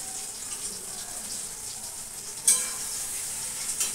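Spice paste stir-fried in a pan for a fish curry gives a steady, moderately loud sizzle with a sharper scrape or clatter about halfway through and another near the end, and no voices.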